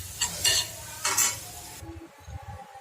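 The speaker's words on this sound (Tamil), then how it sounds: "இப்போ கொஞ்சமாக துருவின தேங்காய் எடுத்துருக்கோம். அதை இப்போ போட்டு வறுத்துக்கலாம்." Grated coconut dry-roasting in a pan, with a spatula scraping and stirring in a few short bursts over a soft, steady sizzle, close and fairly quiet, with no talking.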